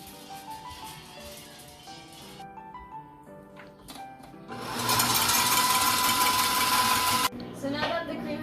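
An electric mixer beats heavy cream on medium speed for a tres leches cake, starting abruptly as a loud, steady whirring buzz that runs for about three seconds and then stops, with music playing before and around it.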